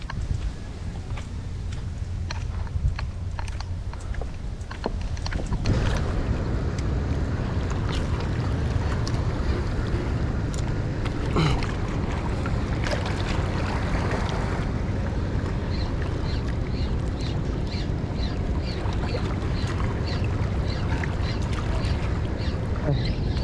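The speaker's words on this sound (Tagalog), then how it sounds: "Ang lakas ng hangin." Strong wind roars steadily across a fishing spot on the water, loud and constant microphone buffeting with occasional clicks and creaks, no clear talk.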